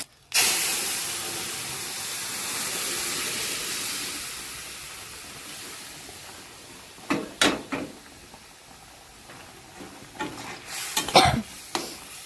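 Lentils tipped into a hot pan set off a loud, steady hissing sizzle that fades over several seconds, followed by a few sharp clinks of a utensil against the pan.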